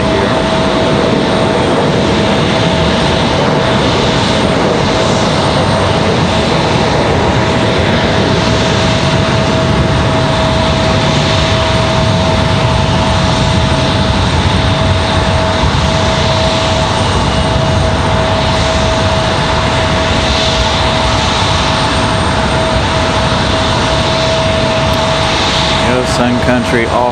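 A United Express airliner moves at Raleigh-Durham airport, its engines producing a steady, loud whine and roar that holds throughout without pause, heard from outside at a plane-spotting position.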